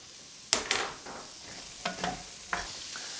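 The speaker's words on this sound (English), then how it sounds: "Stir it all together." Potatoes, onions and bacon frying together in a pan, stirred in three separate scraping strokes over a faint background sizzle, close and clear.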